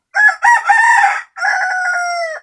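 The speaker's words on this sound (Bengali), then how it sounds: "এই যে আমার এই দেশীয় মুরগিগুলো এখানে" A desi rooster crows loudly and close, one long call with a brief break partway through, against a quiet background.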